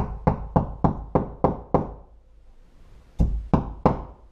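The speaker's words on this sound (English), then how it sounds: "and then you're going to tap in the provided wall anchors." Sharp hammer taps ring out as plastic wall anchors are tapped into a wall, a quick, even series of six, pause, then three more close knocks.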